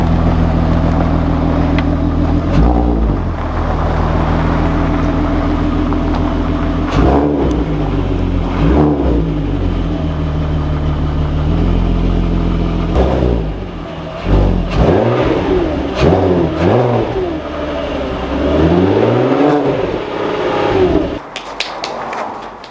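A Volkswagen Golf Mk4 R32 engine with a Magnaflow exhaust idles loudly with a deep exhaust rumble, punctuated by several sharp revs that rise and fall, close by.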